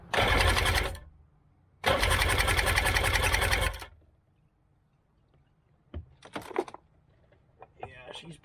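Fuel pump on a 2002 Sea-Doo GTX DI jet ski whirring loudly and close in two sustained runs, the second about two seconds long, followed by quieter clicks and handling noises.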